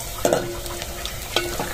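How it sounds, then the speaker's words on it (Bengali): Onions, chilies and bay leaves fry in a pan with cumin for rice porridge, giving a steady sizzle with a couple of sharp stirring scrapes near the start and again toward the end. "এখানে পেঁয়াজ মরিচ ভাজতেছে, পেঁয়াজ মরিচ আর তেজপাতা"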